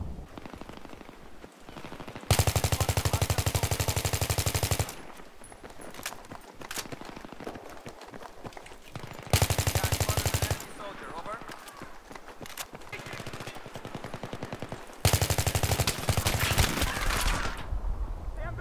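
Bursts of automatic gunfire in Battlefield 3 come in three loud, dense volleys of a few seconds each, separated by quieter gameplay noise and footsteps.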